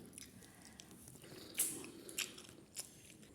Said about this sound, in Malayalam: നമ്മൾ റോബസ്റ്റ് പഴം കഴിക്കുക കേട്ടോ മക്കളെ